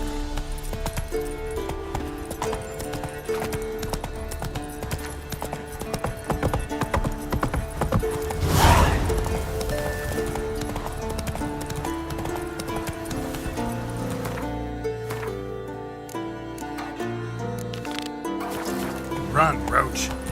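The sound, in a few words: horse galloping hooves in The Witcher video game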